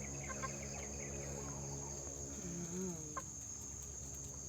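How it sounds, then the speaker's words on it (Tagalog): Four local chickens on a farm, with a soft cluck and a brief rising call over steady insect and cricket drone, faint and distant, no voices. "So meron tayong 4 na mga local chicken."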